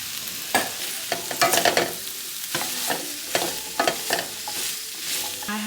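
Carrots and sweet potato fry in oil with a steady close sizzle, broken by scraping stirs and clattering bumps of a utensil against the pan.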